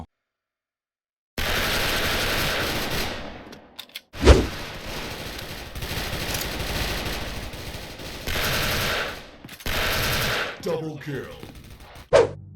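Gunfire in the video game Special Force rattles in long bursts of rapid automatic shots, broken by brief pauses and a sharp louder blast.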